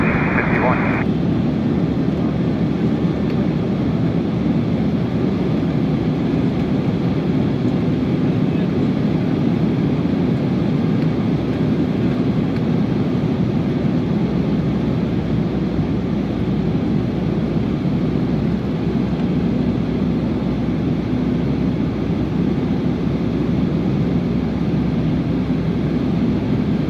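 A JetBlue passenger jet takes off, giving a loud and steady roar of engine and rushing air heard from inside the cabin that runs unbroken for the whole stretch.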